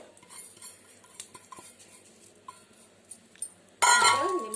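White sesame seeds stirred into a homemade snack mixture, soft scattered scrapes and clinks of a spoon against a bowl, then a sudden louder burst of clattering near the end.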